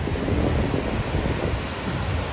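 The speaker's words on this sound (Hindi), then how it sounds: "देखो वहां से लहरें बनी" Ocean waves at Vagator Beach in Goa wash in as a steady, loud surf roar with some wind buffeting the microphone, no voices.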